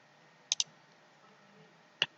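A computer mouse gives a quick pair of crisp clicks, then a single click follows after a short pause, close and clear against a quiet background.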